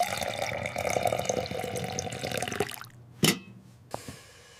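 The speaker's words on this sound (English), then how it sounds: "Pour slowly, Sarah." Water poured slowly in a steady, close stream that runs for under three seconds and then stops, followed by a brief sharp clink and a faint tap in the quiet.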